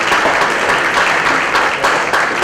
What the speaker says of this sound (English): So a huge round of applause to all of you out there